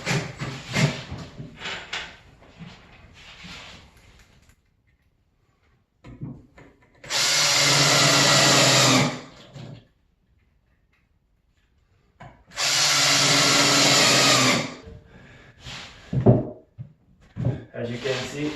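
A power drill drives screws into wood in two sustained, loud bursts of a few seconds each, with brief rustling and handling noise between them and some talking early on.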